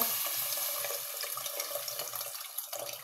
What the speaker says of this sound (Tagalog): Ato din siyang tubigan. Para na ay sabaw.